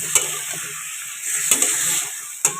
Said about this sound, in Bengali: এর সাথে দিয়েছি একটু কাশ্মীরি লঙ্কা গুঁড়ো, মশলা ধরা জলটা দিয়ে দিলাম।